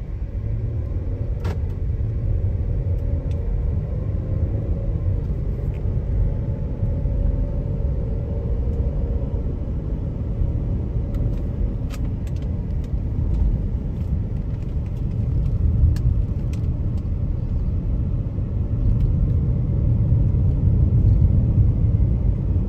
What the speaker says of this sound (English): And now we're gonna take it on a quick test drive.